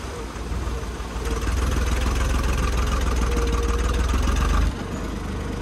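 A tractor engine runs steadily through a water crossing on a mountain road trip, a loud continuous low drone that swells after the first second and holds, then drops back at the end.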